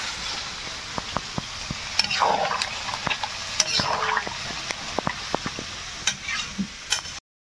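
Crab pieces are stirred through a thick spice paste in a hot pan for a Bengali crab curry, with repeated scraping and clinking of the utensil against the metal over a soft sizzle. The sound is close and is heard alone, without talk.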